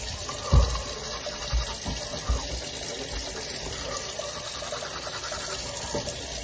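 A bathroom tap runs steadily during tooth brushing, a close, even hiss of flowing water with a few soft knocks and bumps in the first half and no talking.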